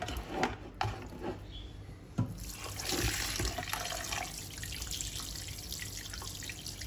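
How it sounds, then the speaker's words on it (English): Tap water running over mutton pieces being rinsed after a rub with flour, a steady close splashing stream with scattered drips and handling sounds. "rub all the flour in and then wash it all off"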